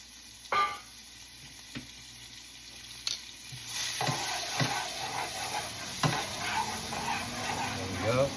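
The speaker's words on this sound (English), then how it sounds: "So we're gonna start with the garlic and shallots real quick." Garlic and shallots hit a pan for coq au vin blanc, a faint sizzle swelling partway through among light utensil clinks, with a voice talking in the background.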